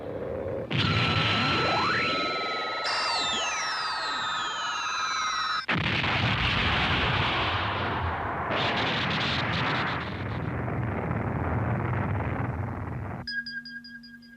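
Cartoon space battle sound effects from an animated sci-fi series: loud sweeping laser zaps and missile whooshes, then a long roaring explosion rumble that fades, ending with a few electronic beeps.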